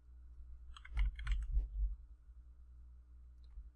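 Short burst of typing on a computer keyboard while entering text for installing XandrOS in a virtual machine, a quick cluster of close, crisp key clicks followed by near silence with a faint steady hum.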